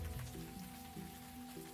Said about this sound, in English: It's always raining, so it's hard to tell.